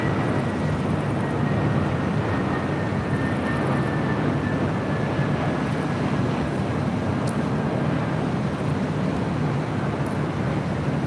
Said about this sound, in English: Spirit A320 Neo. Coming in from Salt Lake City, Utah